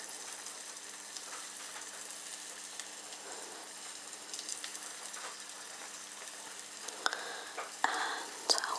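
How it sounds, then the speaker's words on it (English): Courgette slices sizzling in hot oil in a pan, a soft, steady crackle and hiss heard up close in a quiet kitchen, with a few louder pops near the end. "Nice sizzle."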